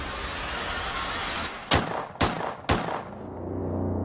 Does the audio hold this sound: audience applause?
no